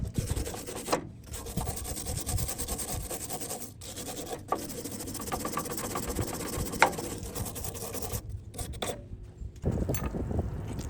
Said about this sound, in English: Take our wire brush, clean it up.